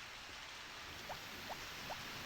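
Rain falling in Harvest Moon BTN, a soft, steady hiss that stays faint throughout, with three brief light blips spaced across the clip.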